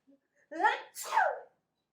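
A person sneezes once, a short two-part burst with a sharp intake and explosive release, heard close and alone against silence.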